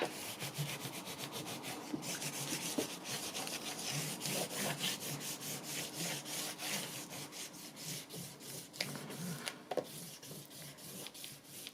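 A knuckle presses a groove into a handmade music journal cover between two boards, producing soft, close rubbing strokes that repeat in an even, brisk rhythm for several seconds with no talking.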